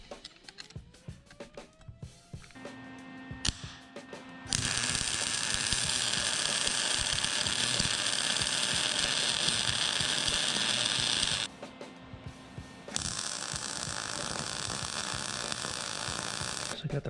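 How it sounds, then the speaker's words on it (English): A brake bracket is unbolted from a minibike fork with a power tool, giving sustained loud whirring runs of several seconds with a brief stop, preceded by ratcheting clicks and metallic handling nearby. "So let me pop this bracket off of here"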